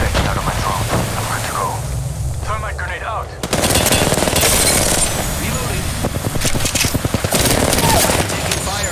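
Automatic gunfire in an Apex Legends match, loud rapid bursts erupting after a few seconds of quieter talk and continuing in dense rattling volleys, with voices speaking over it.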